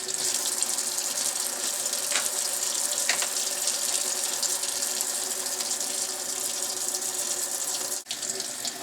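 Water runs steadily from a sink tap as small Ibanez Edge tremolo parts are rinsed over a strainer, a loud, continuous close splashing hiss with faint shifts in the flow and a brief dip near the end.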